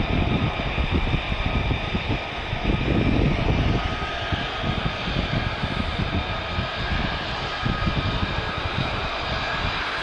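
F-35 fighter jets flying at night at RAF Lakenheath, a loud sustained broadband jet roar with rumbling low end, steady and near throughout with no talk.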